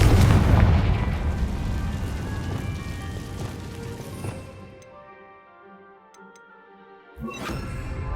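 A Confringo blasting spell explodes in the Hogwarts Legacy video game: a loud, heavy boom with a rumbling tail that fades over several seconds. A second burst hits near the end, with no talk.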